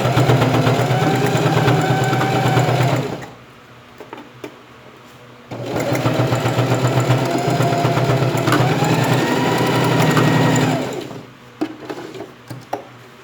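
Domestic sewing machine running in two long bursts while backstitching the seam of a school pencil case, loud and close with a steady whirring drone, then short pauses with light handling clicks; no talking.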